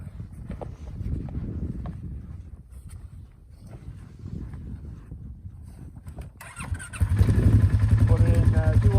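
A Polaris Sportsman 570 ATV in snow, with crunching footsteps and a voice first, then the engine starts and settles into a loud, close, rapidly pulsing idle.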